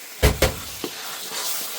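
Tomato base gravy for North Indian curry being stirred in a pan, with two loud scraping clatters of the spoon close up, then a softer knock, over a steady, faint sizzling hiss.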